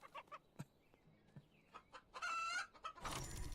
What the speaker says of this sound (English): It's a freaking chicken.